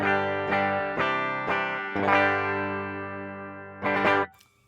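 Clean electric guitar notes played directly without effects, a handful of plucked notes and chords ringing out and decaying, ending with a sharp strum that cuts off.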